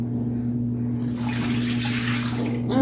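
Lemon apple water poured into a hot pan, a steady splashing, rushing stream that starts abruptly after a second over a constant low hum, ending with a brief bubbling burst.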